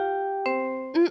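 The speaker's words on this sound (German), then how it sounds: "Habt ihr gehört? Es hat geschellt." A house doorbell rings with clear electronic chime tones: a sustained note, then two more struck chimes in quick succession, loud and close, with no talking.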